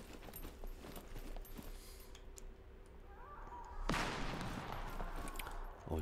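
A single gunshot in the survival video game SCUM cracks out sharply against quiet ambient game noise, leaving a brief rumbling tail. No voices are heard.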